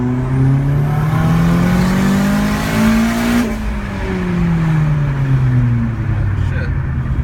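Big-turbo Hyundai Genesis Coupe 2.0 R-Spec pulling hard under boost, engine note climbing through a gear, dropping briefly at a shift, then rising again, loud and close from inside the car with voices talking over it.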